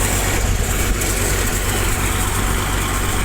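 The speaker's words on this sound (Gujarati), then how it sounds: "અડદમાં અગિયારસો આરપીએમ ઉપર ટ્રેક્ટર હાલે હાલમાં આપણું" A tractor engine runs steadily at 1100 rpm while threshing black gram, a loud low drone with no pauses or talking.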